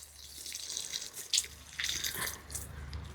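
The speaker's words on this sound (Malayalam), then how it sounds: "നല്ലോണം വെള്ളം ഒഴിക്കുക." Water is poured onto newly planted indoor plants, giving soft, faint splashing and dripping trickles over a few seconds.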